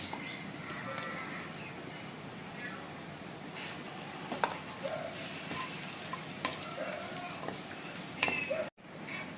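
A bay leaf, two dried red chillies and whole cumin seeds sizzle in hot oil for a tempering for vegetarian aloo dum, a continuous close crackling hiss with scattered pops and a few faint knocks.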